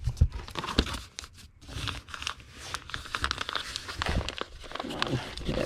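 Packing tape pressed onto a padded mailer envelope, a busy run of crinkling, tearing and rustling handling sounds with sharp snaps and gaps, close and fairly loud, no speech.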